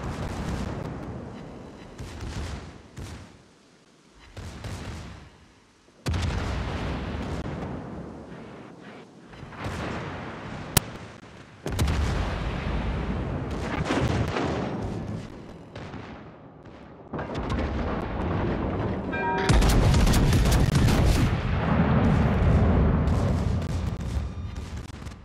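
Video game artillery barrage on a designated target, with repeated heavy booms and rumbling blasts in irregular bursts, some far and some close, building to a loud sustained volley near the end.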